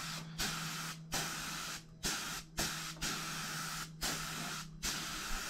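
A spray gun applies Cerakote coating to dirt bike parts such as a brake hanger, sounding as a series of steady hissing bursts, about seven in all, each a second or so long, separated by brief pauses, close and fairly loud.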